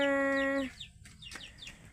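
A chicken lets out a drawn-out, tonal squawk, then a run of short, sharp clucks and chirps, fairly close and moderately loud with no voices.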